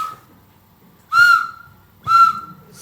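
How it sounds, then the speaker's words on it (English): A whistle is blown twice, two loud shrill blasts about a second apart, each held briefly against near silence. "you blow your whistle."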